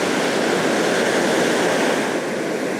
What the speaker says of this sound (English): just sitting on the beach, listening to the sound of the sea